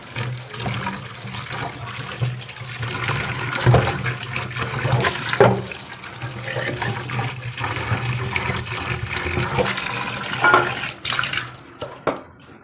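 Tap water pours steadily into a bathroom wash basin during washing, a continuous splashing rush with occasional clinks and handling sounds close by.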